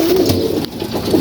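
Pigeons coo close by in a short, loud burst of low throaty warbling calls, with a brief pause in the middle before the cooing resumes.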